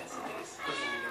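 A cat meows a couple of times, close and fairly loud, with some background noise underneath.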